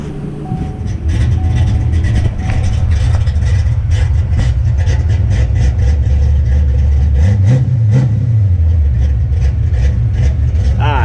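A car engine fitted with a performance cam, in a 1986 coupe project, revs loudly and steadily throughout, swelling into a sharper rev near the end, with a voice speaking over it.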